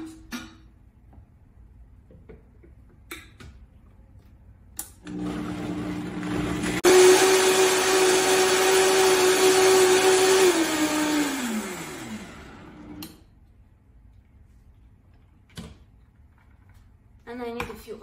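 A blender whirs up a drink of lemon juice, turmeric, ginger, and pea and buckwheat sprouts, a loud motor roar of about six seconds that winds down, with small clicks and handling noises before and after.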